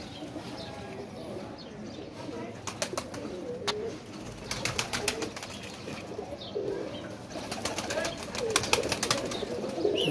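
Flying-game pigeons give low, murmuring coos at close range, mixed with light clicking and rustling, and a faint voice now and then.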